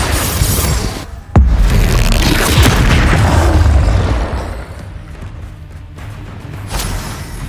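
A Confringo spell from Hogwarts Legacy detonates in a loud booming blast with a sharp crack, followed by a rumbling, debris-filled roar that slowly fades.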